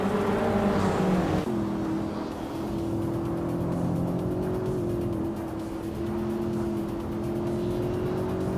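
Race cars in a racing video game roar past with steady, loud engine drone and a gear-shift drop early on, several engines overlapping continuously.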